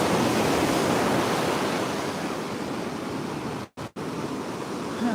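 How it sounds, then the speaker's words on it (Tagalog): Surf rolls onto the shore at San Juan beach in Ilocos Sur, a loud, continuous roar of breaking waves mixed with wind buffeting the microphone, with two brief dropouts near the end. "Yan yung dagat, guys."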